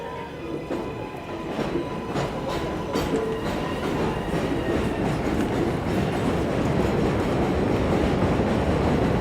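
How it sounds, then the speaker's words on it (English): A New York City subway train on the number 7 line at the 90th Street–Elmhurst Avenue station in Queens rumbles steadily with clattering wheels, a loud continuous roar that builds slightly over time, with no talking. "We're getting on at the 90th Street, Elmhurst Avenue subway station."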